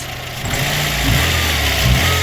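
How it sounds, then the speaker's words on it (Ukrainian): A VAZ 21099 car engine idles steadily and evenly after a valve clearance adjustment, with a low continuous hum and slight fluctuations in pitch, close by and with no voices. "працює тепер вона, вже не троїть, не пердить, нічого, все рівненько, чистенько працює"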